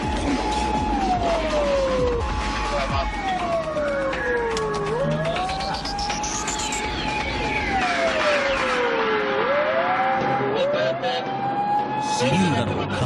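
A police car siren wails in repeated rising and falling sweeps as it passes at a drift car event in Odaiba, loud and near over a busy street with crowd noise and a voice talking.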